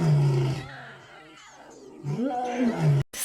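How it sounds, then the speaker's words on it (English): Baby big cats give small, rising and falling roars, several cub voices overlapping up close, with a brief pause before a last short cry. "Roar, little babies, roar."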